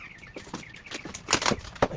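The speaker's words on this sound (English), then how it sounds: "sorry for the noise, I have some hawks that are nesting in the oak trees above my garage" Hawks nesting in oak trees above a garage give a series of harsh, repeated calls and rustles at moderate distance, growing louder toward the end.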